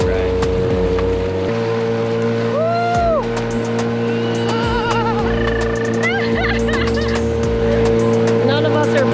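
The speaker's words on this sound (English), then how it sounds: "Never too many dinghy rides." A small dinghy's outboard motor drones steadily and loudly throughout a ride, with voices and exclamations rising over the engine noise.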